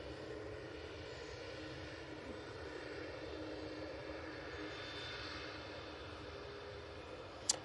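An Emirates airliner taxis onto a stand at Manchester Airport, its engines giving a steady moderate hum and whine, with a brief sharp click near the end and no voices.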